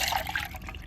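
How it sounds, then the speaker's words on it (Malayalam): Milk poured from a glass into a pot, a brief close liquid trickle and splash lasting about a second. "പാല് ഞാൻ പാത്രത്തിലേക്ക് ഒഴിക്കുന്നുണ്ട്"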